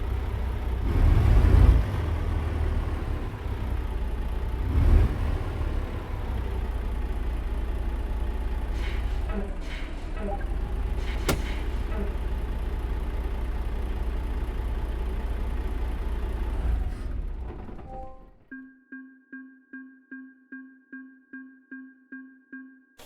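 A truck engine idles in American Truck Simulator as a steady, loud low rumble. It cuts off near the end and is followed by a rhythmic beeping tone.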